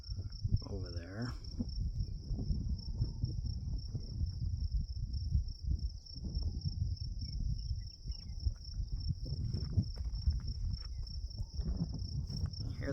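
Steady high crickets chirp continuously on a mountain overlook above Homedale, Idaho, near Owyhee Reservoir, while footsteps and low rustling move close by beneath them.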